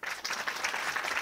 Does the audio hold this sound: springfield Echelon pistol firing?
no